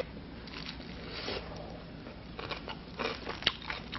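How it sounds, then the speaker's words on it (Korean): Crunchy bites and chewing of fresh apple kimchi, tasted straight from the batch while it is being made: several crisp crunches close to the mic with soft chewing and light rustle between them. "어머, 사과가 씹혀요."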